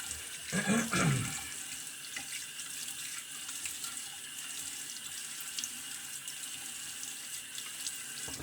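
A bathroom tap runs for a razor rinse during a shave with a Williams double-edge razor, a burst of gushing water at the start settling into a steady soft flow.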